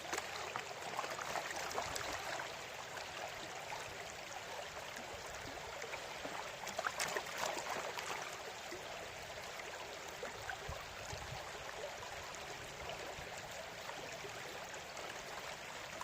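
A creek runs steadily in an outdoor setting where gold is worked with a mini sluice, giving a continuous broadband wash of flowing water, close and fairly loud, unchanging throughout with no voices.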